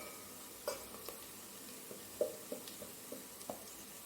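Onions sautéing in a pan with coriander, chili and pepper powders for a Kerala kadala curry, heard as a faint sizzle with a handful of soft spoon scrapes and taps spread irregularly, and no voices.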